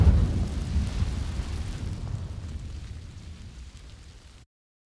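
The Incendio fire spell from the Hogwarts Legacy video game sets dry vines alight with a loud, deep rumbling whoosh that slowly fades and then cuts off, with no voices.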